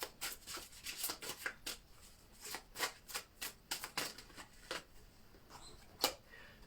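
Tarot cards being shuffled by hand, a run of crisp papery snaps and flutters in uneven bursts, fairly close, with short pauses between riffles and no voice over them.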